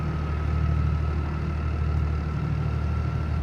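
A Toyota 80 series Land Cruiser's 1HZ engine idles with a steady, low, even rumble throughout, with no voices over it.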